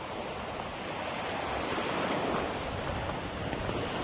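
Sea waves washing and rolling onto the shore in a continuous broad roar, with wind buffeting the microphone and no voices.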